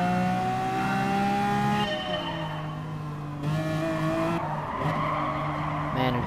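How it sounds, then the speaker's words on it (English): A Lamborghini Aventador in the Gran Turismo Sport video game, its engine revving high and shifting through steady tones while the tires squeal and skid, loud and close, with no talk. "Car's revving."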